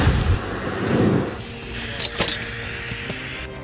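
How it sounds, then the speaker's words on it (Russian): A heavy artillery gun boom opens the clip near Bakhmut, then a deep rumbling aftermath with scattered metallic clinks and knocks nearby. "Выстрел!"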